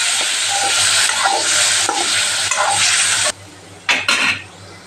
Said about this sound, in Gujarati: તો તેલ થઈ ગયું છે, આપણે ફ્રાય કરી લઈએ પનીરને।